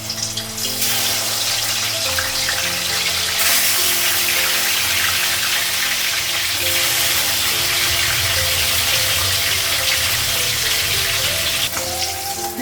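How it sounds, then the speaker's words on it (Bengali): Fish frying in oil in a pan, a continuous loud hiss and sizzle that stays close and steady, with faint clatter and tonal kitchen background beneath. "এক সাইড ভাজা হয়ে গেছে মাছটা।"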